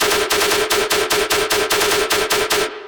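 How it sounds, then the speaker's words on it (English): Gun sound-effect samples run through the Spec Ops plugin: a rapid, evenly spaced burst of about a dozen loud, heavily processed machine-gun-style shots with a tonal ring, cutting off abruptly at the end. "It's these Moon Boy guns with spec ops running through them."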